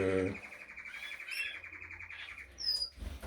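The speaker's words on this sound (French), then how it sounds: "ça chante pas mal. Les oiseaux ont l'air d'être en bonne forme" Canaries sing in a breeding room, a dense run of rapid trilled phrases and bright high chirps carrying on steadily throughout, with a low hum underneath and a sharp high whistle-like note near the end.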